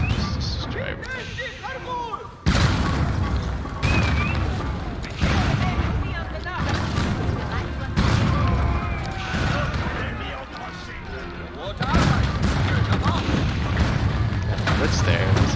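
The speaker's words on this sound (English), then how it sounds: "It's kind of fun to watch the cannons go." Repeated heavy booms of cannon fire in Age of Empires 4, roughly every second or two, loud and punchy with crashing impacts and occasional voices underneath.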